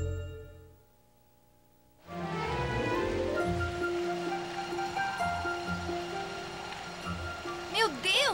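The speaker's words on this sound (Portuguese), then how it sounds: "Este super vento está me empurrando." Strong cartoon wind rushes in suddenly after a quiet opening and keeps roaring loudly and steadily, with a brief squealing cry near the end.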